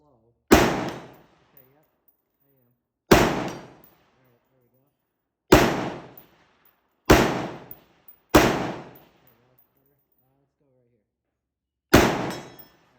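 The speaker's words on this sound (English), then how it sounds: "I've been kind of shooting a lot of Wolf dirty steel" A Steyr AUG rifle fires Wolf steel-case ammunition in six loud, sharp single shots spaced a few seconds apart, each with a short decaying echo.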